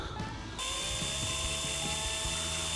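A high, steady whine of a drill boring a hole for an external antenna, spinning continuously, close and constant, with a faint grinding texture underneath.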